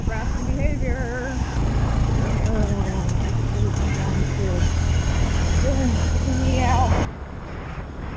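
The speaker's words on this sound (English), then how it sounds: "So this is a 2023 Grom, 125cc, 5-speed" A 2023 Honda Grom 125cc five-speed motorcycle on the move gives a steady, loud engine and wind roar with a voice talking over it. The roar drops abruptly near the end.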